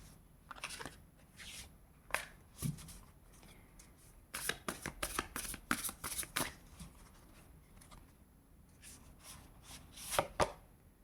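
Tarot cards are shuffled by hand, quiet close riffles and slaps in uneven bursts, some dense flurries of flicking cards separated by short pauses.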